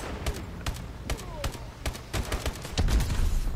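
Rapid gunfire in Call of Duty: Advanced Warfare multiplayer, a loud fusillade of repeated sharp shots in quick irregular bursts, with heavier thuds near the end.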